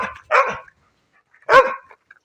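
A dog barks in a vegetable garden: two sharp, close barks separated by a short silence, with no talking.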